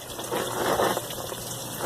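Water in an airlift aeroponics system burbles and gushes steadily, a continuous close bubbling and trickling flow that swells slightly midway, with no one talking.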